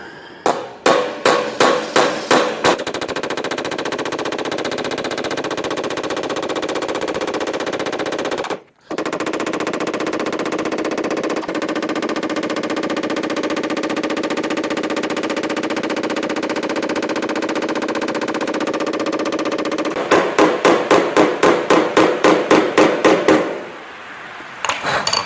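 Rapid, loud metallic hammer blows shape and stretch the recess of a Ford Capri steel door skin, coming in fast bursts and sustained runs of repeated strikes with a brief pause partway through.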